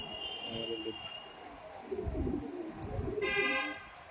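A pigeon coos in low, soft, throaty pulses, a few repeated notes close by, with a brief high honk-like tone near the end.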